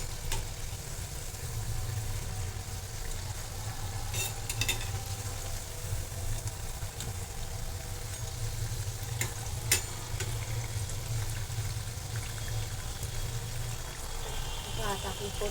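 Onion bhaji frying in hot oil while being stirred, a steady close sizzle with occasional scraping clicks from the stirring utensil throughout.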